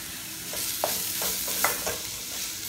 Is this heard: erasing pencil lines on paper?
no